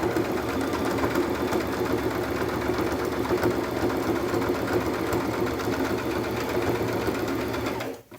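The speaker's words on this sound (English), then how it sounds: "I'm going to stitch clear across the entire width." A sewing machine stitches straight across the full width of a two-piece jean waistband, its steady, close, continuous motor whir running alone without a break until it stops abruptly at the end.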